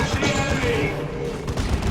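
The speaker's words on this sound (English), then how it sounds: "Turns out the las cannon is the solution to all of our problems." Lascannon fire in the Warhammer 40,000: Dawn of War 2: Chaos Rising video game booms and crackles in a dense, continuous barrage of heavy battle noise with rumbling low end.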